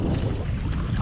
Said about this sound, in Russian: Сейчас у нас очень сильный ветер дует, смотрите, обратите внимание